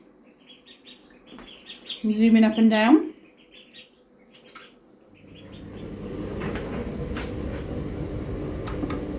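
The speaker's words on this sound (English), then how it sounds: "Ducks in the bathtub." Ducks quack loudly and close in a bathtub for a moment, then a voice speaks briefly before steady splashing and running water fills the rest.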